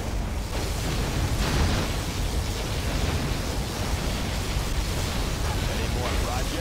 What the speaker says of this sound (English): Warning, particle cannon activated.